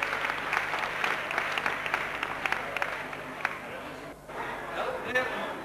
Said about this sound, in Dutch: Nou, hier groot applaus voor deze mensen.